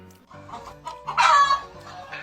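A chicken clucks in a few short bursts nearby, rising into a louder squawk midway.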